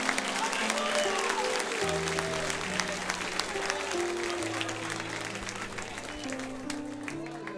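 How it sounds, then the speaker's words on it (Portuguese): A church congregation at a Portuguese-language worship service claps loudly in a dense, continuous burst for over seven seconds, with sustained music tones running underneath and some voices mixed in. "Se você vai aplaudir o Senhor, aplauda bem forte a Ele."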